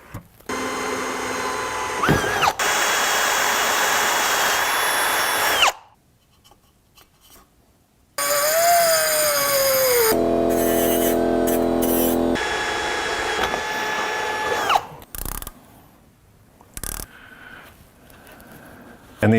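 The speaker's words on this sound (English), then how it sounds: "Drill's still going." A power drill whirs in loud, sustained bursts in a garage during a Honda Integra Type R restoration, pitch sagging and rising between runs, separated by quiet gaps and small tool clicks.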